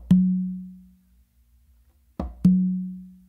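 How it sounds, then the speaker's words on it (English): A single conga tip stroke with the off hand, then a resonant open tone on the tumba, in a pachanga pattern. Two short cycles of close, clear drum hits with ringing tones, a gap between them, no voices. "you're just going to do a finger or a tip with your non-dominant hand on the conga"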